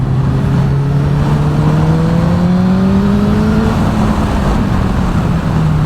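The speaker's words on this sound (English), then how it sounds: "So a bit of hard acceleration and a bit of moderately heavy braking to get the tyres flexing a little bit" A motorcycle on freshly fitted tyres accelerates hard during scrubbing-in. The loud engine note climbs steadily in pitch over several seconds under broadband wind and road roar, with no talk.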